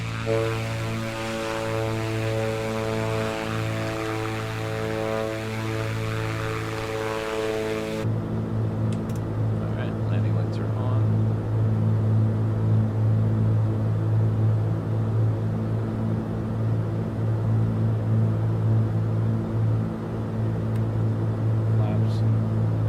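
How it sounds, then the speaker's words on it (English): Black Square Grand Duke twin-prop aircraft in Microsoft Flight Simulator, a steady droning propeller and engine hum that shifts partway as the landing gear extends, continuous and close with no talking. "Let's show you the gear animation coming down here."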